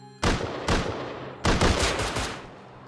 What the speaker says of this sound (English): has he put a second shotgun trap in?